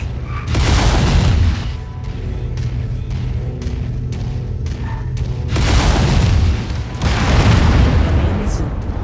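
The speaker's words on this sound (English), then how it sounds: "Missile." Missile explosions in the Mechwarrior 5 mech combat game, heavy booming blasts rumbling in bursts with crackling debris and rolling low thunder between them, loud and dense throughout.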